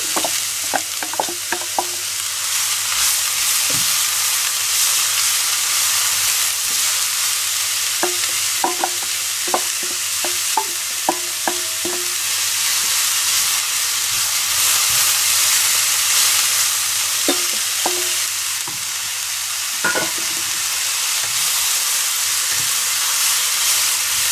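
Sliced carrots stir-fried in a hot pan as filling for spring rolls, a steady loud sizzle with scraping stirs and clustered clinks of the utensil, no talking.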